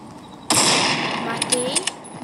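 A sniper rifle fires a single loud shot in a one-on-one sniper video game match, followed by a few brief clicks of the bolt cycling.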